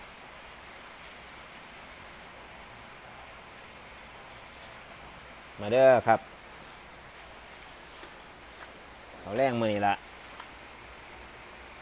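Steady soft rain falling outdoors, a constant faint hiss throughout, with someone speaking briefly twice over it.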